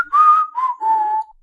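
A person whistles a short little call imitating a lizard, three clear whistled notes in a row, close and fairly loud, with no talking.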